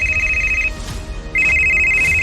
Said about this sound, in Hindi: 2 रिंग के बाद ज्योति के पापा ने फोन उठाया